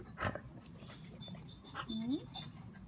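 A young Labrador cross dog whimpers with a rising thin whine, short and fairly quiet, after a brief yip; a person talks nearby.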